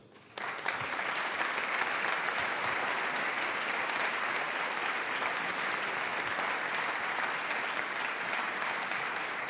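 Sustained audience applause at the European Charlemagne Youth Prize 2023 ceremony in Aachen, starting abruptly and holding as a dense, steady roar of clapping for several seconds, with no voices over it.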